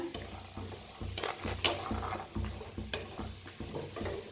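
A vegetable mixture is stirred and roasted in oil in a pan, with a spoon scraping and clinking against the metal in steady strokes over a soft sizzle, close and moderately loud.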